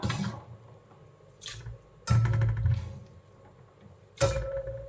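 Chopped bitter gourd pieces are dropped and stirred into a bowl of water, giving a few splashing, sloshing bursts over a low steady background hum in a home kitchen.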